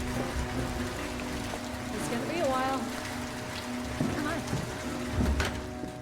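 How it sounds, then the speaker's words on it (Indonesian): Heavy rain pours steadily in an action film scene, a dense hissing wash heard throughout beneath voices and other scene sounds. "tiba-tiba hujan deras mulai turun"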